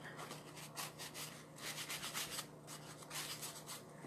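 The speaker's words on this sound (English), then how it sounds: "just go ahead and scrub it with a Clorox wipe." A disinfectant wipe scrubs chalk paste off a chalkable surface, giving a steady, close rubbing swish in quick back-and-forth strokes, fairly loud and with no talking.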